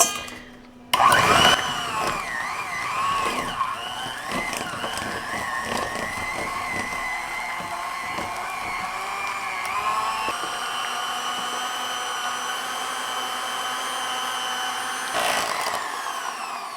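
An electric hand mixer whirs steadily through no-bake strawberry icebox cake filling, starting abruptly and holding a droning motor tone with shifting pitch as the beaters work.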